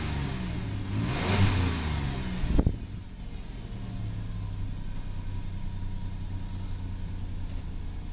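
A 2004 Dodge Caravan with 146,600 miles runs its engine close by. It revs up and falls back sharply near the start, then settles into a steady, even idle for the rest.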